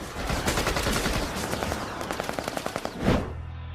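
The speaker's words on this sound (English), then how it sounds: "This is a 25mm chain gun, and this actually allows us to fire high explosive rounds into vessels if we have to stop them" A 25mm chain gun fires from a police boat in a rapid burst of loud, evenly spaced shots that slows into separate reports before fading out.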